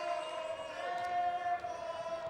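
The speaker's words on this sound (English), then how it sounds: "we've got our MC crowd behind us chanting air ball" Home crowd at a Montgomery College women's basketball game chanting in unison at a distant gym, a faint, steady rhythmic chant with sustained voices under the court noise.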